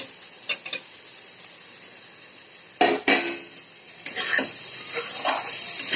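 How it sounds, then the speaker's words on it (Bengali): Fried eggplant goes into a pan of spices and gets stirred, giving scattered spoon scrapes and clanks against the pan over a soft background, with a louder burst of clattering midway and continued stirring after. "ভেজে রাখা বেগুনগুলো এর মধ্যে আমি দিয়ে দেবো।"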